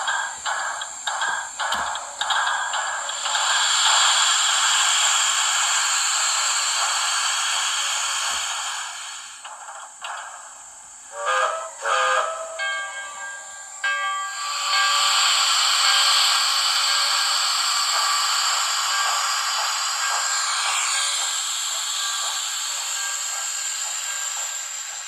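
On30 2-8-0 model steam locomotive sound unit playing hissing steam chuffs, a long steady hiss and short whistle toots, heard up close and fairly quiet, with a pause in the middle.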